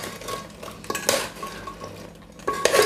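A spoon scrapes and clinks against a pot while milk buns are stirred in sugar syrup, giving short, close scraping strokes and soft knocks with no talking.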